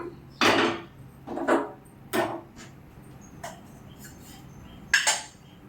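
A cooking pot is set down on a kitchen stove with several sharp metallic clanks and clatters spaced apart, close and fairly quiet, in an otherwise still kitchen.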